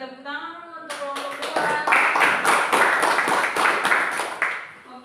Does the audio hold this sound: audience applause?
yes